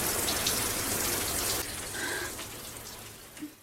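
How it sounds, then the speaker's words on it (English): Shower water runs hard in a film scene where a woman washes blood off her body and face, a loud gushing spray that drops to a softer, patchier flow partway through, with no voices. "washes the blood off her body and face in the shower"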